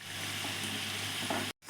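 Gavvalu, shell-shaped jaggery sweets, sizzle and crackle in hot oil in a deep pan, a close and steady frying hiss that cuts off abruptly near the end.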